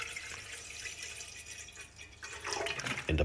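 Water pours and splashes into a pot, a rushing trickle that grows louder toward the end, with no talking.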